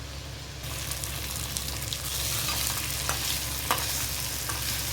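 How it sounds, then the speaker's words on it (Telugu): Pre-fried fish pieces sizzle loudly in a spice masala, a constant close frying hiss that swells after the first second and carries small crackles and pops, with no voices. "ఈ చేప ముక్కలు ఫ్రై చేశాను కదా, అవి వేసుకోవాలండి. ఇలా వేసుకొని కాసేపు వేగనివ్వాలండి."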